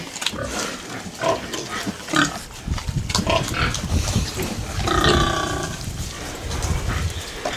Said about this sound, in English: the nervous sow's pretty close